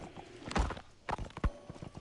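Horse hooves clip-clop in the Metal Gear Solid video game: a few sharp, close hoof strikes spaced irregularly over a soft ambient background, with no talking.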